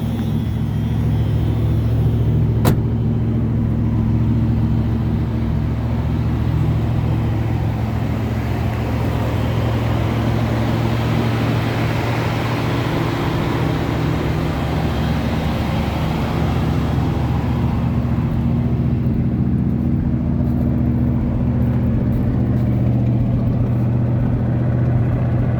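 A 1978 Ford Thunderbird engine idles through a cold start on a chilly spring morning, its carbureted motor giving a steady, loud, continuous low rumble with no talking over it.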